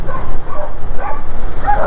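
Dogs barking and yipping across a road near a hill in Davao City, a few overlapping barks against steady traffic rumble and background noise.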